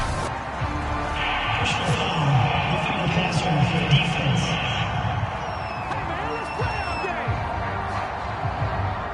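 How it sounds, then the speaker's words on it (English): Crowd noise from the NFL Madden 2022 video game, a steady roar of a stadium crowd reacting to a penalty call. It carries on for several seconds, rising slightly, with game commentary spoken over it. "Well, this crowd does not like that call."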